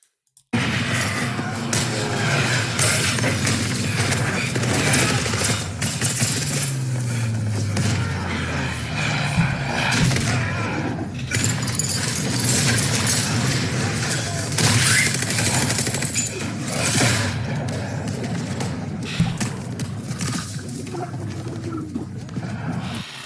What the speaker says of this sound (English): that game is just explosions, guns, shooting, lots of voltage